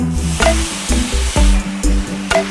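Tomatoes hit a hot pan of charred, blackened onions spiced with paprika and cumin, giving a steady close sizzle beneath a rhythmic backing of music with repeated low beats.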